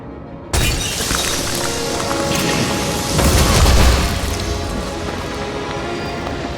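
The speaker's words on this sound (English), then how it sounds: "The shootout started." A sudden loud burst of gunfire opens a chaotic shootout in the video game Nobody Wants to Die, with shattering crashes and booming impacts that swell midway and stay dense to the end, with no talk.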